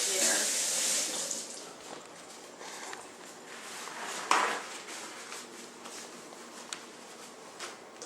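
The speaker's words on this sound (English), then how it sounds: "rinse my hands off here" Kitchen tap water runs into a sink while hands are rinsed during baking, a loud bright gush at first that soon drops to quieter splashing and trickling, with a few small knocks and clicks.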